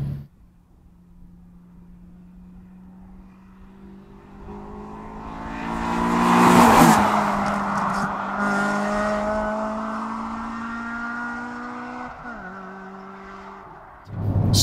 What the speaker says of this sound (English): what actually is it that I'm driving today? This is a Honda Civic Type R Mugen.